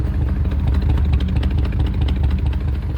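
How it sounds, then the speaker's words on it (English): A 1958 Chevrolet Apache pickup truck exhaust idles with a steady, deep rumbling burble, loud and close, its low pulsing rhythm unbroken throughout. "Take a listen to the exhaust here real quick."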